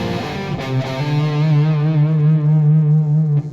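A distorted electric guitar played through a Warlock distortion pedal sustains a single heavy note with a buzzing, saturated tone and a touch of reverb, loud and close.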